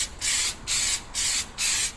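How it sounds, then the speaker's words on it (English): A spray can applies paint over a 30-year-old STI fuel tank in four steady, evenly spaced hissing bursts of roughly equal length, close and loud, with short pauses between them. "They've put me onto this new product which can just spray straight over the top."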